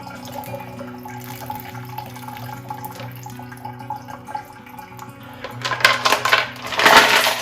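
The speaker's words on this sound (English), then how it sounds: "I'll tip it up, drain off any excess water." Excess water drained from a rock tumbler barrel loaded with rocks, with a soft background hum at first, then trickling and splashing water and rattling stones growing louder toward the end.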